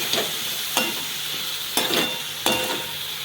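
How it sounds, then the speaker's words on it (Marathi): Green beans sautéing in oil with a constant bright sizzle, broken by four distinct spatula scrapes or knocks at irregular intervals; close and fairly loud, without speech. "चांगलं परतून घेते त्यांना मिक्स करून घेते तेलामध्ये"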